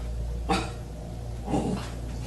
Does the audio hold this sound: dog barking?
yes